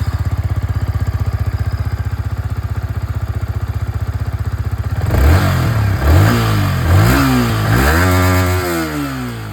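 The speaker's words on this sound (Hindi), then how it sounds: "अब इसकी जो एग्जॉस्ट साउंड है दोस्तों वो भी मैं आप लोगों को यहाँ" A 2025 Yamaha R15M Monster Energy Edition motorcycle idling with a steady, pulsing exhaust burble, then revved several times, the engine note rising and falling in repeated throttle blips, loud and close.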